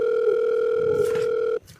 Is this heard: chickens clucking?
no